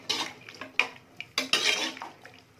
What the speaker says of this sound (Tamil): நல்லா மிக்ஸ் பண்ணி விட்டுணும்.